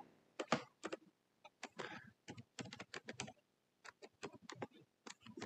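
Keys on a computer keyboard clatter in quick uneven bursts as an email address is typed into a form, close and clear with short pauses between groups of strokes.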